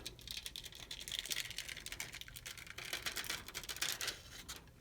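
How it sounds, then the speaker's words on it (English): Transfer tape is peeled off rhinestones on a baseball cap with a quick series of faint, dry crackling ticks and rattles, like rapid light tapping, continuing for several seconds with no voices. "I'm going to remove the transfer tape."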